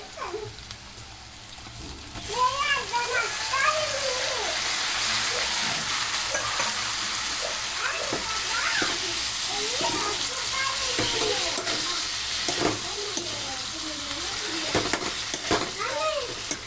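Onion and tomato frying in a pan make a strong continuous sizzle, with frequent scraping stir strokes and faint background voices now and then.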